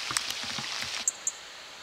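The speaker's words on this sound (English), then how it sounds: "Starting to rain now, quite heavy rain forecast." Rain begins falling outdoors during a New Year's Day fishing outing, a soft steady hiss with a few sharper drop-like taps standing out near the end; no one speaks.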